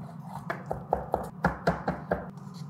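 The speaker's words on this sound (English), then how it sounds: "Now sun-dried tomatoes, we're gonna use about 6 halves and we're gonna chop them finely" A knife chops about six halves of sun-dried tomatoes finely on a board, a quick series of around ten crisp, close taps in an uneven rhythm, with no voices.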